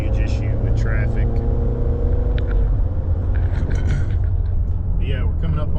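Highway traffic on I-82 near an exit ramp, a steady, loud rumble of cars and other vehicles passing close by without a break.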